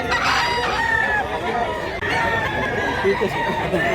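Gamefowl rooster at a market in Mantalungon, Cebu, crowing through a busy background of chatter and crowd noise, the crow rising over a dense, continuous murmur of voices.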